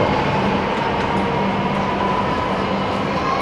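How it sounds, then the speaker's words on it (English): Shinkansen bullet train at a Tokyo station platform, a loud steady rumbling roar with a sustained tonal hum, continuous and close, with no voices. "That's one of the most modern trains in the world."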